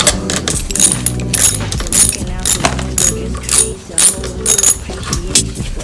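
Ratchet with a 10 mm socket loosening bolts on a 1981 Honda CB900C motorcycle, giving rapid mechanical clicking and metallic clatter in repeated bursts, close and fairly loud, with some talk in between.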